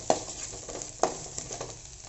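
Onions and garlic frying in a pan for a lentil dumpling curry, a soft sizzle with a couple of sharp clinks from a spoon against the pan and lighter stirring scrapes between them.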